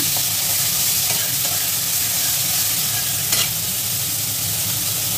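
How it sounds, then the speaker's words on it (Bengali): Dried onion frying in hot white oil in a pan while being stirred, a loud, continuous sizzle with faint scraping strokes and one brief clink, no talking. "এবার তেলের মধ্যে প্রথমে আমি দিয়ে দেবো শুকনো পেঁয়াজ, একটু নেড়ে নেব।"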